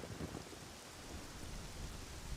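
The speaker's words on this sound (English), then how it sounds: "rain now pours from the sky" Heavy rain pours down in Ocarina of Time's Kakariko Village, a faint, dense, continuous hiss of falling water with low rumbling underneath and no voices.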